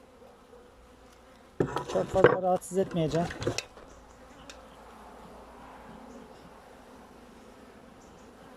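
Honeybees buzzing steadily around an open hive during an autumn inspection, a low continuous drone close by, with a person speaking briefly in Turkish over it.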